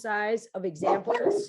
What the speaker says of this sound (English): And again, I apologize for my dogs.